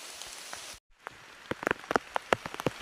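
Rain patters through a forest, a dense hiss of drops striking leaves and ground with sharp, close drips popping out, broken by a brief near-silent gap before the downpour resumes.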